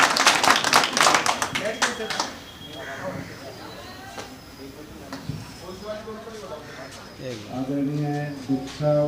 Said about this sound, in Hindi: सर जोरदार ताली बजाइएगा।